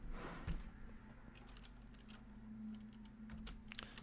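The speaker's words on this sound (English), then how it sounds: "Let me type" Quiet, scattered keystrokes tap on a computer keyboard in short bursts, faint and close, over a low steady electrical hum with no talking.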